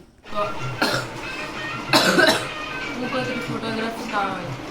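A child coughs in a few short, harsh bursts close by during the rainy season, with a voice sounding in between.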